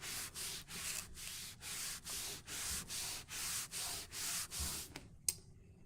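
Dried paint is scrubbed off a table in a dozen or so steady back-and-forth strokes, close and rhythmic, each a gritty rasping rub. A single sharp knock comes at the end.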